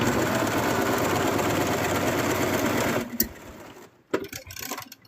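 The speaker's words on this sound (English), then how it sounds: "Now I'm sewing against the grain a little bit, so I have to kind of feed a little bit more." A sewing machine stitches plush fabric in a steady, close whirring run for about three seconds, then stops, and a few scattered handling clicks and thumps follow.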